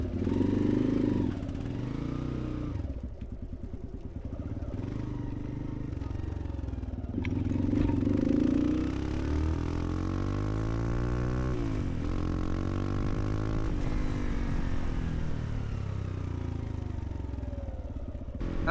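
A motorcycle fitted with a new exhaust and spark arrestor rides along back roads, its engine revving up and down with shifting pitch and clattering mechanical noise throughout, moderately loud and close.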